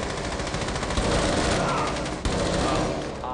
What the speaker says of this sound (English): Shots flying there